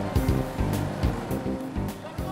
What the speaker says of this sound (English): The reel trailer operator starts the diesel engine